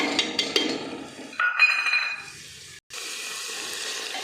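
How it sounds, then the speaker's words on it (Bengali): Drained tarka dal lentils go into fried masala in a pan, with clinks of utensils, a burst of sizzling and a brief metallic ring, then a steady hiss. "এবার দিয়ে দেব ঝরিয়ে রাখা তড়কার ডাল"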